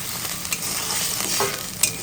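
Onions fry in a pan at a home kitchen stove while being stirred, a steady close sizzle broken by a few sharp scrapes and clinks of the spoon.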